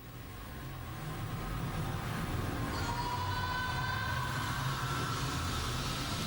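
Heavily time-stretched audio, processed in Ableton using Complex Pro interpolation and Valhalla reverb, forms a steady, dense wash of smeared noise with faint sustained tones, swelling slightly in the first seconds and then holding level.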